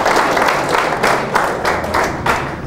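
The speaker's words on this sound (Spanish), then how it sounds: "Bueno, y el aplauso." Applause from an audience at a billiards trick-shot demonstration, a brief burst of many hands clapping in quick, uneven rhythm, moderately loud and close, fading slightly near the end.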